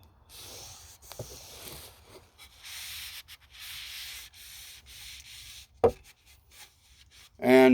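A rag rubs and wipes along the head and steel edge of a sharpened double bit axe, producing soft repeated swishing strokes up close, broken by a couple of sharp knocks and a louder clunk at the end.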